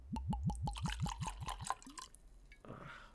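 New Riff Balboa rye whiskey glugs out of a bottle in a quick run of about ten rhythmic, close, fairly loud pulses, then trails off into a few drips and a faint clink.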